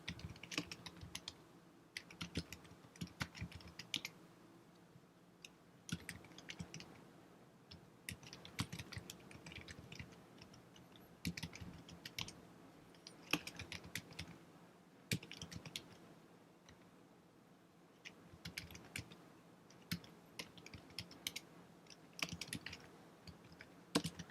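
Computer keyboard typing at a terminal, steady quiet clicking of keys in irregular runs with brief pauses, close and alone without speech.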